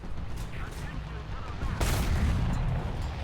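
A tank destroyer's 90/53 cannon shot in a video game strikes an enemy tank's cupola, one sharp loud blast cracking over rumbling engine noise, with someone talking.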